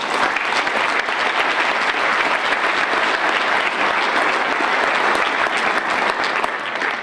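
An audience at a mayor's State of the City address applauds continuously and densely, a loud even wash of clapping that holds for several seconds.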